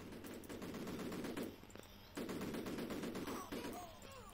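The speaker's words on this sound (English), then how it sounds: "Let me shoot you again to make sure." Soldiers' gunfire in the retro video game Cannon Fodder rattles in dense, rapid bursts, pausing briefly midway before resuming, with short rising electronic chirps near the end.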